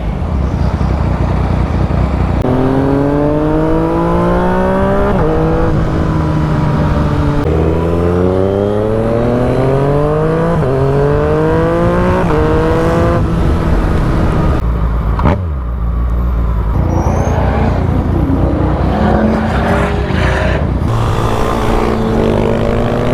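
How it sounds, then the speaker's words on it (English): Yamaha FZ-09 motorcycle riding at low speed through city streets, engine revving up through repeated quickshifter gear changes in rising pitch sweeps, loud and close, with one brief dip before pulling on again; no talking. "it was nice to ride the FZ through the city to see how it handles at lower speeds"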